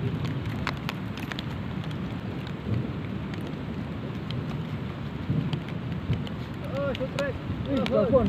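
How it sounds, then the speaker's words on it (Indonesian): Steady rain patters across a dam fishing spot, a broad continuous wash that holds level throughout, with scattered drop ticks and faint thunder-like rumble underneath. "hujan udah mulai reda ini"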